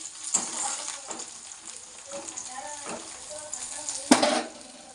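Onion and carrot fry in a pan with a steady bright sizzle throughout, broken by a few soft scrapes and knocks and one sharp clatter near the end.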